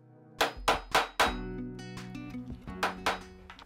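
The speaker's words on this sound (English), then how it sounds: "I'm gonna hammer it and seal it in place with this little tool" Several sharp hammer strikes on a rivet-setting tool, setting a rivet into a DIY traveler's notebook: three in quick succession, then a few lighter taps, each ringing briefly, close and loud with no speech.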